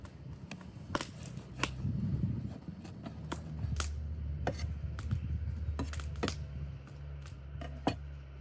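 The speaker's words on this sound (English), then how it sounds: "I'm quickly chopping up the leftover pieces from the goose to boil them" Knife chopping leftover roast goose pieces on a board, a steady series of sharp close thuds, irregularly spaced, over a low background rumble.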